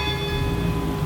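A renovated church bell at Villiers-sur-Loir rings with a sustained, humming metallic tone, loud and close, heard alone over about a second.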